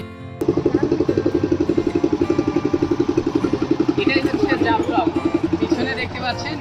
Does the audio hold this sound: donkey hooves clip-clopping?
no